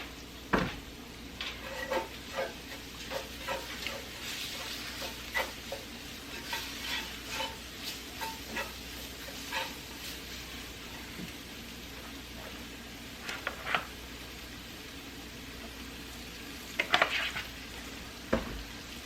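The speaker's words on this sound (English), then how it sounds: "In this case, I'm going to add just a tad oil. And then we want that flour to kind of cook down." Flour cooking down in a little oil in a pan for gravy gives a continuous hiss and sizzle, with regular scraping strokes of a spoon stirring through it and a few sharper knocks against the pan.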